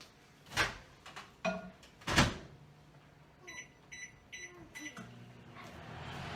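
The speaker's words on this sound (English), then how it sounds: "So let me put that in the microwave." A kitchen microwave door is opened and shut, heard as a few sharp clunks and clicks, followed by a run of short beeps from the keypad and the start of a low hum.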